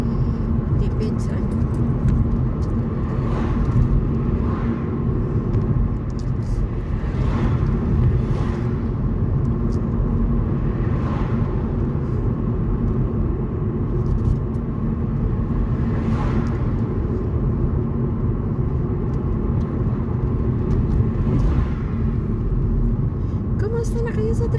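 A car drives along with its windows rolled down and no air conditioning, giving a steady, loud road and wind rumble that runs throughout, with occasional brief higher rushes and people talking over it.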